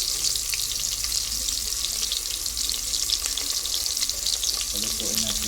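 Onions fry in oil in a deep pot, giving a loud, dense, continuous sizzle with faint stirring scrapes beneath it.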